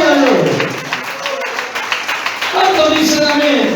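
Short burst of congregation clapping in a church service, mixed with speech at the start and end and dense clapping through the middle.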